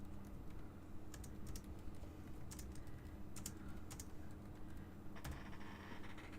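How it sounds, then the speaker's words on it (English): Steady typing on a computer keyboard during an HTML and CSS coding lesson, with irregular bursts of light key clicks over a constant low hum, fairly faint and close. "I forgot which one I'm typing on there"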